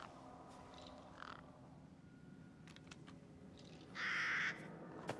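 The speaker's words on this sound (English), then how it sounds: "Is that more than one bird?" Crows cawing in the Resident Evil Village VR game, several harsh caws scattered over a quiet forest ambience, one loud close call near the end, no voices.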